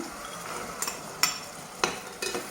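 Onions frying in a pan for an Algerian white chorba and bsibsa tagine, a soft, low sizzle broken by a few quick spatula scrapes and taps, fairly faint overall.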